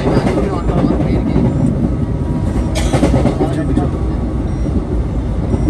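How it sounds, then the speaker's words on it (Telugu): A passenger train runs fast at about 106 km/h, heard from a seat near the open door, a loud continuous rushing roar with rattling and vibration throughout, people talking under it. "బండి అయితే చాలా స్పీడ్గా వెళ్తుంది"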